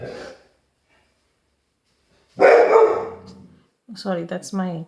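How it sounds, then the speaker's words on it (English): A Great Pyrenees guard dog barks in a short burst of loud, close barking after a brief opening voice, followed by a pause, then a person speaking. "my dog. She's a guard dog. She's a Great Pyrenees."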